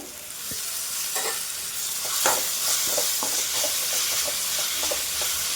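Fenugreek leaves fry in oil for a tomato curry, giving a steady close sizzle with scattered crackles and spatula scrapes as the greens are stirred around the pan.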